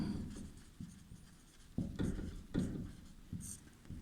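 Chalk tapping and scratching on a board during a physics lesson, several short knocks and strokes in an irregular rhythm, close and fairly quiet, with no speech over them.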